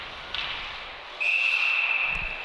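A referee's whistle blown during a Queen's Valley hockey league final game between Grenfell and Lumsden, sounding as one long, loud, steady blast over the rink's crowd noise and arena ambience.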